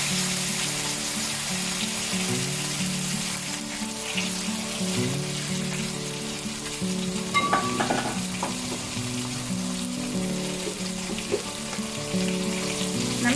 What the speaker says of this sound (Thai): ผัดให้เข้ากันเลยค่ะ